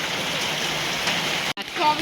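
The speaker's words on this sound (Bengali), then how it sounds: "কি সুন্দর বৃষ্টি পড়ছে" Rain falls steadily near the glass bridge at 900 Kandi in Wayanad, an even wash of patter that cuts out briefly near the end before returning.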